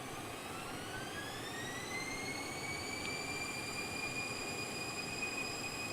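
Bombardier CL650 jet engines in the X-Plane 12 flight simulator, a steady, loud roar with high-pitched whining tones that rise and then hold a constant screech throughout.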